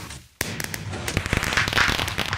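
A Minecraft firework rocket launches with a sudden sharp crack and bursts into a dense crackling, loud and close, in a video game.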